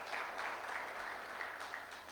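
An audience claps steadily at an engineering open house and job fair, a dense, even patter of many hands at moderate distance with no voices over it.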